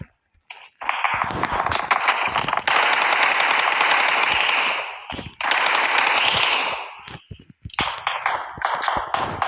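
Sustained automatic gunfire in PUBG Mobile, a loud continuous burst for several seconds, a brief pause, then another long burst and scattered shots, with no talk over it.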